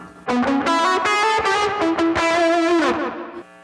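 A distorted electric guitar plays a fast melodic solo line with quick hammered notes and sustained bends, loud and alone.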